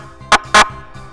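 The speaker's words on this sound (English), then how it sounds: "And then also the horn." Two short, loud fire truck horn blasts sound in quick succession over a low engine hum.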